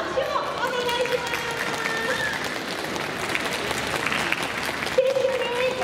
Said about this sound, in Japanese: やはりここは売れたいが聞きたいという方は大きな拍手をお願いします